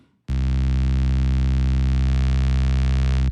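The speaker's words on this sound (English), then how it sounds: "just a consistent note that will be held" A single sustained synth tone from a Roland SP-404 MK2 sampler, held steadily at constant loudness for about three seconds with a rich stack of harmonics, starting and stopping abruptly and heard alone.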